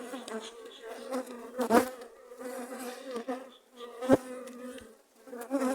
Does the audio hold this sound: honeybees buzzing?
yes